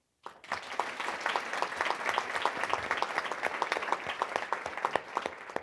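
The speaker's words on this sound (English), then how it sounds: "I'm asking you to clap if this is true" After a brief silence, an audience at a literacy summit breaks into clapping, individual claps distinct and rhythmic, holding at a moderate, steady level until the end.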